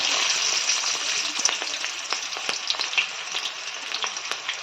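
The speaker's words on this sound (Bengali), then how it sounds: "কুচি করা পেঁয়াজগুলো দিয়ে দেওয়া হলো" Chopped onions hit hot oil already frying with spices, and a dense, bright sizzle starts at once. Small pops and crackles break through the hiss as the onions fry close by. No voices are heard.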